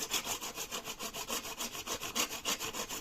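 Quick, even strokes of a fine-toothed hand saw grinding through plastic pipe, up close and continuous for a few seconds.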